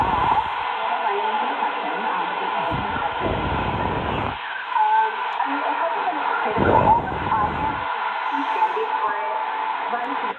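An AM radio signal received on an Icom IC-R9500 receiver with the wide filter: a continuous band-limited broadcast voice with a hissy, muffled tone, steady throughout.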